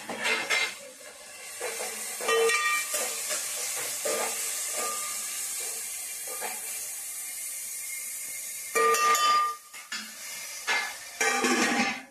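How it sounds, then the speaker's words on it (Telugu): Onions and green chillies frying in oil in a pan for mushroom curry, a steady hiss of sizzling broken by clinks and scrapes of a utensil against the pan, with short louder bursts of stirring near the end. "ఉల్లిపాయలు బాగా ఎర్రగా వేయించుకోవాలి."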